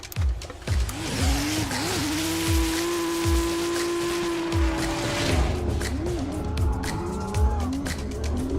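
Race cars on a track at a GRIDLIFE South Carolina time attack event, engines screaming past one after another with rising and falling revs, loud and close, with a faint voice in the background.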